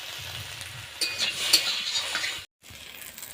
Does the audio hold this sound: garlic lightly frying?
yes